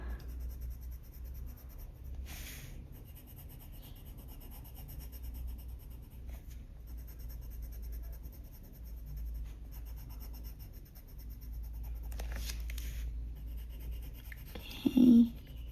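A Faber-Castell Polychromos colored pencil in Indian red laid lightly over paper while coloring terracotta leaves gives a faint, steady scratchy rubbing that runs throughout, with a brief louder knock near the end.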